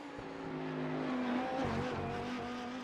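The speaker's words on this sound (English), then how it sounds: "You can just hear the revs spiking every time the car bounces over the very bumpy concreted surface here in Detroit." A GT3 race car in the iRacing sim on the bumpy concrete street circuit at Belle Isle, Detroit, its engine droning steadily with brief rev spikes and faint tyre noise throughout.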